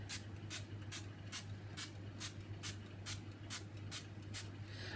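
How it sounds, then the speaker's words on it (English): A run of short, faint bursts of Frylight cooking oil spray, about a dozen evenly spaced hisses over a steady low hum. "I'm just going to spray each one with fry light."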